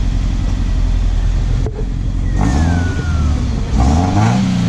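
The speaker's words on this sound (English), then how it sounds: "It's a BRZ with an unequal link header and a tune." Subaru BRZ with an unequal length header and tune revs hard and close, a steady loud engine note rising in pitch through a quick blip and a second climb, with no talk over it.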